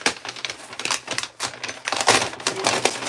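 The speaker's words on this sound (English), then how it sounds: "Let's tear the bag open." A paper bag holding Lego pieces is torn open in a rapid series of crisp, loud rips and crinkles up close, the bursts coming in uneven pulses.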